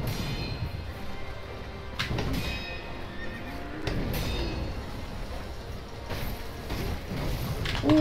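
A horse neighs and whinnies loudly during a Sekiro boss fight, joined by clip-clop hoofbeats and busy game combat noise, with no talk over it.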